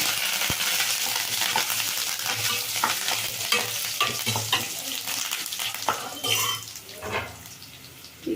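Curry leaves crackle and sizzle in hot oil while a spoon stirs the pan, with scraping strokes over a constant close frying hiss.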